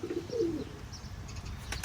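A few soft coos and chirps from birds close by over a quiet outdoor background.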